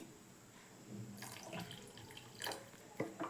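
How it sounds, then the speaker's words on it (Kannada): Water is added from a tap into a pot of chicken curry in a home kitchen. It comes as faint, uneven splashing bursts over quiet room tone, with no talking. "ಈಗ ನೀರು ಸೇರಿಸ್ಕೊಳ್ಳೋಣ"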